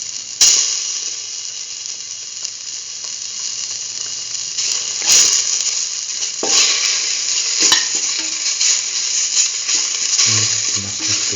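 Mustard paste hits a hot pan for a curried lentil stew, giving a steady bright sizzle throughout with occasional sharper scraping and stirring clicks, close and alone with no talk.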